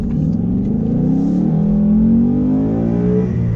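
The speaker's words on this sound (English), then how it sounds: "people will know around you because this car sounds so amazing this year" A 2018 Ford Mustang GT with a V8 and six-speed manual revs hard nearby, a deep loud rumble rising steadily in pitch as the engine climbs, alone without voices.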